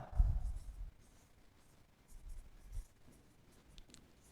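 Notes written by hand during a general knowledge lesson, a faint close scratch of pen or chalk strokes with low thumps in between and no voice.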